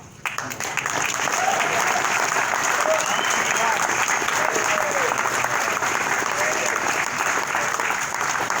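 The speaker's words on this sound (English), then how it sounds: "everybody's going to give the round of applause for this young man" A church congregation breaks into sustained applause after a baptism, steady loud clapping filling the room with scattered voices and cheers mixed in.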